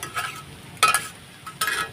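Potatoes frying in a wok with a metal spoon stirring in bursts, near and moderately loud over a faint steady sizzle, no talk.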